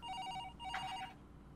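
A telephone rings inside a video game in repeated electronic bell bursts, with a short pause between rings and a brighter burst in the middle, set against a low background hum.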